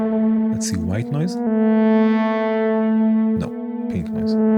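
A synthesizer drone run through a delay effect, with a steady pitched tone and a broad hiss of white noise swelling in the middle, while someone talks over it at the start and end.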